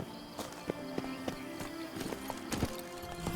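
Roach, Geralt's horse in The Witcher 3, gallops along in hoofbeats that clop steadily and distinctly, with a whinny-like tone mixed in. Faint in-game sound plays underneath and no one talks over it.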